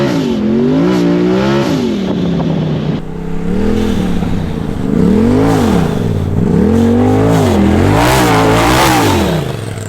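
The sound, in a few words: Polaris RZR Turbo S with aftermarket exhaust revving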